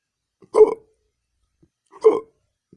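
A cartoon character hiccups twice, each loud vocal hic spaced about a second and a half apart, with near silence between them.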